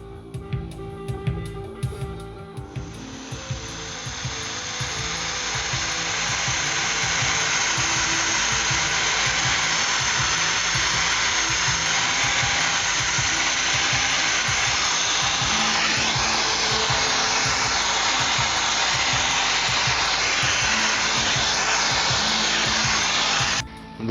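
A heat gun shrinking heat-shrink tubing over a wire on a car fender project, running as a steady, loud, continuous blowing roar that starts after a few seconds and holds nearly unbroken to the end.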